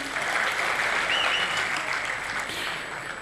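Audience applause from a stage mimicry show, with many hands clapping in a steady, loud, continuous wash that lasts the whole moment and is heard alone, with no talk over it.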